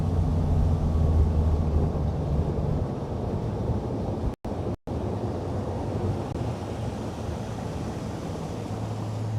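Steady wind roars over a lake on Guntersville, a broad continuous rush with low gusty rumble, loud and close to the microphone, interrupted by two brief dropouts.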